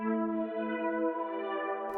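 A slightly detuned synth key from FL Studio holds a sustained, bright, buzzy tone with rich layered harmonics and a faint echo, steady and up close with no talking.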